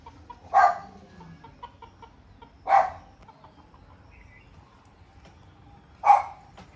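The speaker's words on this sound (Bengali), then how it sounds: "তিনটা মুরগি এসছে এখানে।" Three chickens give short, sharp clucking calls, three distinct loud squawks spaced a few seconds apart, close by in an otherwise quiet outdoor setting.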